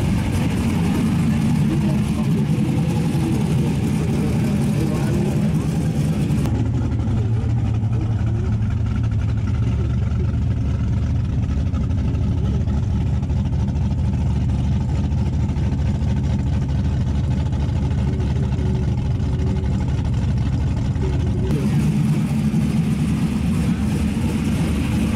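Turbocharged Mustang drag racing cars at a drag strip fill the air with a continuous loud engine roar and revving, dipping to a lower rumble mid-way before swelling again.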